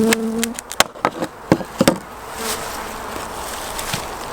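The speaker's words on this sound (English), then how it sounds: "So here we've got a much bigger cluster, and the bees are a lot livelier" Honeybees in an overwintering nuc hive during feeding with pollen substitute, giving a lively buzz with scattered sharp taps and knocks from the crownboard being handled nearby.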